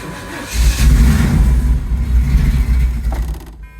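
A KITT replica car's cold engine catches and starts after a couple of throttle pumps, then runs with an uneven, loud close-up rumble and revving that settles toward idle, heard alone.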